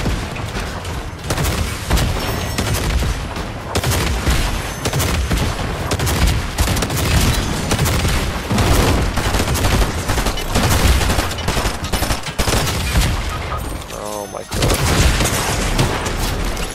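Bombs and gunfire in a ranked duos battle game: dense bursts of shots and booming blasts that keep coming almost without pause, loud and close, with a brief lull near the end.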